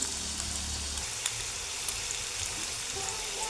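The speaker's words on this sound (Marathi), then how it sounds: "हरभरी डाळ आणि शेंगदाणे एक पाच मिनटं कमी गॅसवर भाजायचे" Chana dal and peanuts roast in a hot oil tempering over low gas, giving a steady, soft hiss and sizzle with small scattered crackles and no voices.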